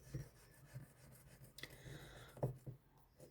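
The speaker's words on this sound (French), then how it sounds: "Je vais gratter Marina pour voir c'est une carte à combien" Coin scratching a scratch-off lottery card up close, quiet intermittent rasping and rubbing strokes with a few small taps, soft and dry against a faint background.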